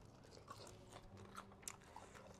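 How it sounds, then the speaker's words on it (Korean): Quiet, wet chewing of snack food at a rural market meal, with soft smacks and crunchy bites repeating irregularly, close to the listener, with no talking. "엄청 쩝쩝거리면 잘 먹네"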